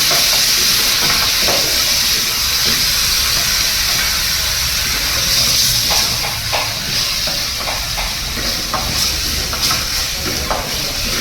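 Gravy poured into fried onion and capsicum in a hot kadai, a loud steady sizzle and hiss with stirring scrapes throughout, close and continuous.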